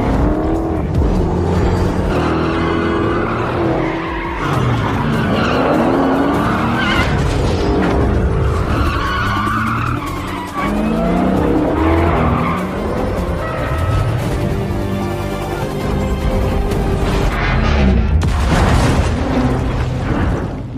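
A car chase tears along after a fleeing truck, with tires skidding and screeching repeatedly over roaring engines, crashes and booming impacts. The scene is loud and continuous throughout, with no voices heard.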